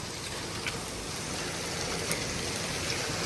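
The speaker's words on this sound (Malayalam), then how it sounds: "സൂപ്പർ മഴ." Heavy rain mixed with hail pours down in Malta, a dense, steady hiss of water close by with a few faint sharp ticks scattered through it.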